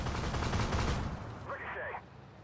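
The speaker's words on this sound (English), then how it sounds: "Ricochet." A tank shell ricochets off a hostile tank in the game Armored Warfare, a short metallic clang with a brief ringing whine that follows a burst of gunfire and a radio voice.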